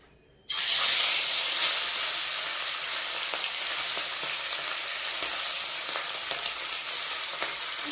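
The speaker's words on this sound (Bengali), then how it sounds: "তোমরা দেখো আমি কি সুন্দর করে মাছটা ভেজে নিচ্ছি" Fish sizzling in hot oil in a wok on a stove, a sudden loud burst of frying hiss that then holds steady and dense, with faint crackles, close up and without talk.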